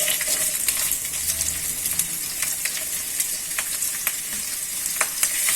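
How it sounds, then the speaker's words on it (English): Onion sautés in a pan for potato and flat green bean sabzi, giving a loud, close, continuous sizzle with frequent clinks and scrapes from stirring. "We'll saute the onion little bit."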